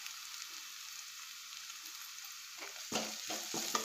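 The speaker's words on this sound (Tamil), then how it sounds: "இப்போ ப்ரௌன் கலராக நல்லா வதங்கிடுச்சு வெங்காயம்." Onions fry in oil in a pan for an egg gravy, giving a steady soft sizzle that sits close and fairly quiet, then a few louder stirring scrapes and clatters near the end.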